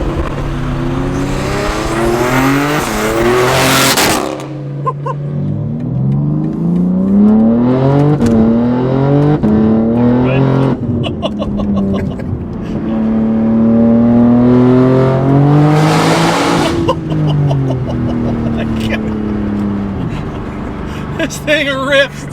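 A BMW G80 M3 with an eight-speed automatic accelerates hard and loud nearby, its engine note climbing in repeated pulls and dropping sharply at each near-instant gearshift, with brief talk over it.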